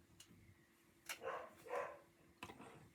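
A puppy gives a few short, fairly faint barks and yips in a quiet indoor room, spaced apart, with no talking over them.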